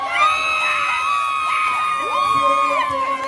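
A crowd cheers and shouts with high, excited voices and whoops, lively and continuous at close range.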